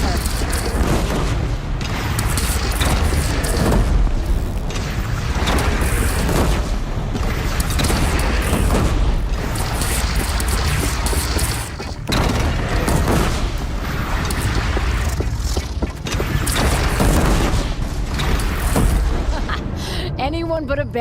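Heavy booming cannon fire in the video game Horizon, with repeated loud blasts and rumbling impacts layered densely over battle noise and voices throughout.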